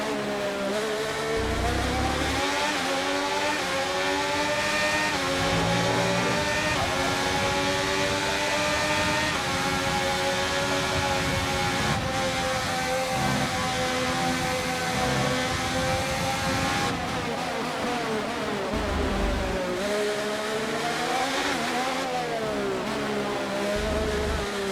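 A Formula 1 car in the F1 23 racing game accelerates back up to racing speed, a loud continuous engine whine whose pitch sweeps upward through the gears and stays steady throughout.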